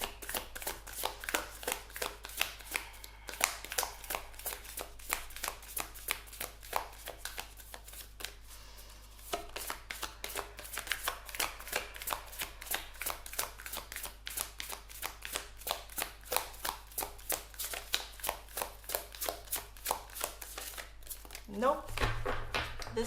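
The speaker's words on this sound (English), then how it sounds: "I'm going to shuffle one more time to see if there's anything else showing up." A deck of tarot cards gets shuffled over and over in quick rapid riffles, close and crisp, with a short pause partway through and a spoken voice at the end.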